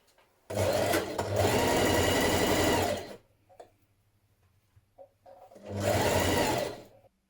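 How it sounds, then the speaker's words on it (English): A sewing machine stitches around the neckline of a fitted dress in two loud, close, steady runs of rapid whirring, the first lasting about two and a half seconds, then a quiet pause with faint handling before a shorter second burst. "We're going to stitch around that neck now."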